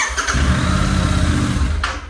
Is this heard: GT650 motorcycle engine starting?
yes